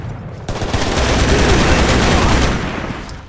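LMG machine gun fire in Shadow Ops: Red Mercury sounds as a loud, dense, sustained burst of close automatic shots lasting a few seconds before it trails off.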